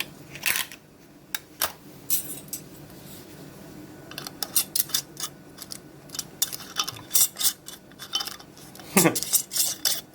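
Repeated clicks, scrapes and clinks of metal lids being twisted onto glass jars of pickled cherries, in irregular bursts with short pauses between.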